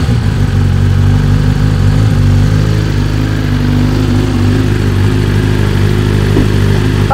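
A 2023 BMW S 1000 RR sport bike runs with its rear wheel spinning, giving a loud, steady mechanical drone with a slight dip in pitch partway through, close up and with no voices.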